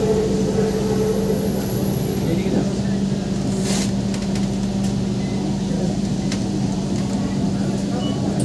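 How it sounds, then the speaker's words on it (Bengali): A Kolkata East-West Metro train pulls into Central Park station in Salt Lake, with a loud, steady rumble and a droning electric hum that fills the whole clip. Faint voices sit underneath. "আমরা এখন এই মুহূর্তে সেন্ট্রাল পার্ক মেট্রো স্টেশনে প্রবেশ করছি"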